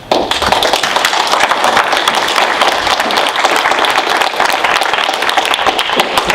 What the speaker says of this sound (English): Very pleased that the audience actually broke out in applause